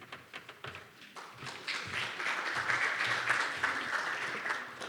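Scattered taps give way to a swell of audience applause at a sports law conference, building after about two seconds into sustained, fairly close clapping from a seated crowd.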